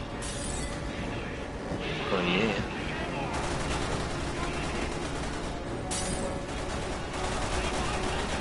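Gunfire in Resident Evil 6 crackles through in dense, shaky bursts, sharp shots and rattling volleys mixed with game effects, while people talk over it throughout.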